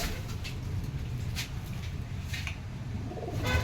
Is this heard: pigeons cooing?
yes